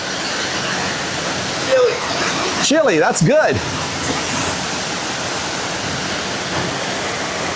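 Kuyawyaw waterfall on Palawan near El Nido roars as a steady, close wash of falling water throughout, with a brief stretch of people talking over it partway through.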